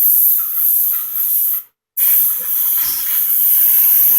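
An airbrush sprays paint for photorealistic flames, a steady close hiss that stops briefly and then resumes, with faint soft handling noises beneath.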